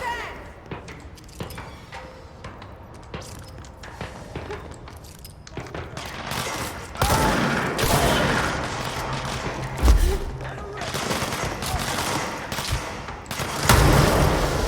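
Gunfire in the game Control comes as rapid bursts and fusillades of shots amid thuds and booms, growing denser and louder partway through, with voices calling out over the action.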